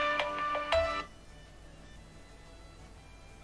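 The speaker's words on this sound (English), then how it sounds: "Ringtone, go away." A phone ringtone plays a short, bright melodic ring for about a second, then cuts off, leaving a quiet room with faint background hum.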